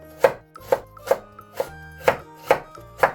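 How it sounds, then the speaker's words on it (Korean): Seven crisp, evenly spaced knife chops on a cutting board as a carrot is cut into thin matchsticks for spicy red japchae, each stroke a sharp, close knock, with no voices. "당근 45g을 채 썰어주세요."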